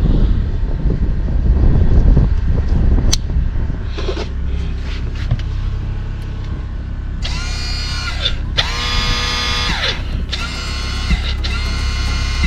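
An old submersible water pump in a Hymer MLT 580 motorhome runs in several loud buzzing, whirring bursts near the end, after low rumbling handling noise and a sharp click, heard close up with no talking.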